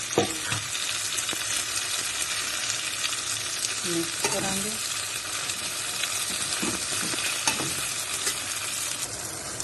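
Sliced onions and tomatoes fry in a pan for halwai-style aloo gobi, with a constant loud sizzle broken by the scrape and clatter of a spoon stirring.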